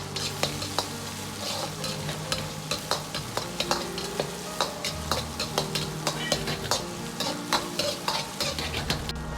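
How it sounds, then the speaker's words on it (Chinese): Minced pork stir-fried with scallion and ginger in a wok: continuous sizzling under regular scraping and clinking strokes of a spatula against the pan, close and moderately loud. "接着下入葱姜，煸炒出香味"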